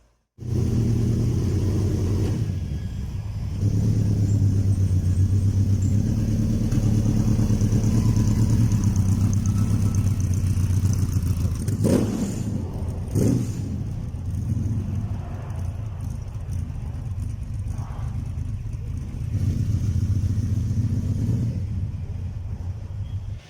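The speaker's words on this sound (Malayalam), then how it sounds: "ആ പഴയ ബെൻസുകാരൻ്റെ ശബ്ദം കേട്ടോ." An old classic Mercedes-Benz car at a Dubai motor show idles with a steady low engine rumble, close and continuous, with a couple of brief louder clatters partway through.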